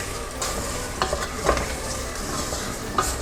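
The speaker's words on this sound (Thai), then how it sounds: "แล้วก็คลุกเคล้าให้เข้ากันก่อนนะครับ" Pork belly being tossed and coated with sweet dark soy sauce in a pan, with steady wet mixing and scraping sounds and light sizzle throughout, close and moderately loud.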